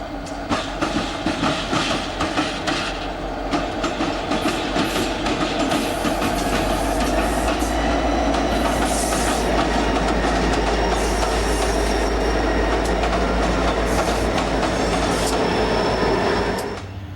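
A diesel freight train led by Southern Pacific and Union Pacific tunnel motor locomotives rumbles past close by at Stockton for a long stretch, with a steady engine drone, clattering wheels and occasional metallic squeals over the roar.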